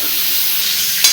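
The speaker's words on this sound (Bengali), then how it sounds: "ভালো করে ফুলকপিটা ভেজে নেব।" Cauliflower frying with salt and turmeric in a pan, a brief loud hiss of sizzling oil with a stirring scrape near the end, no talking.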